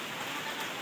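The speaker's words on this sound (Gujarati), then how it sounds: "ધોકાર વરસાદ ચાલુ થઈ ગયો છે" Heavy monsoon rain pours on Girnar mountain near Junagadh, a dense, steady hiss of downpour that fills the whole short moment without any break.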